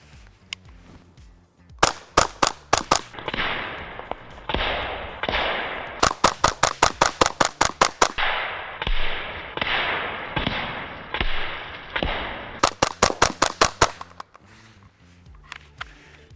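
A .22 LR MP5 empties a full magazine of tracer rounds at a jug of diesel downrange, firing sharp, loud shots in three rapid strings of about eight to ten each, with quiet gaps between bursts.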